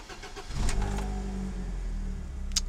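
The engine of a 1991 BMW 318is starts, with a short cranking burst rising into a steady low idle rumble that carries on close by to the end, with no talk.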